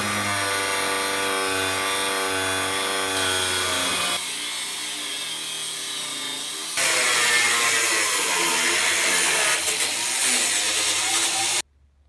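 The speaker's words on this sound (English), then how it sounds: "let's go ahead and get the cutoff tool rolling and get them out of there" A cutoff tool slicing out sections of a kit car's frame in a garage gives a loud continuous high-pitched whine that shifts pitch and load as it bites into the metal, breaking off briefly mid-cut and stopping abruptly near the end.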